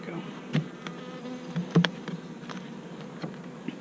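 Honey bees drone softly around a reassembled beehive, with a low steady hum and a few louder buzzes as individual bees pass close by.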